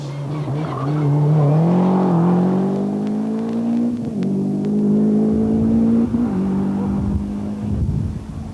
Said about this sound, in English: the leader at the moment, Erwin Doctor in the slightly damaged Calibra. Sounding beautiful and looking great.